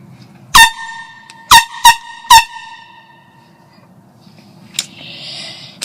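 A very loud air horn fires four sharp, blaring blasts close up: one short blast, a gap, then three in quick succession. Quiet follows, with a faint click and hiss near the end.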